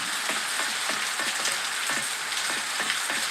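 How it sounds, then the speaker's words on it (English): Rain falling in a steady, dense hiss with scattered louder drops striking nearby surfaces, continuous and even throughout with no voices. "Raining again."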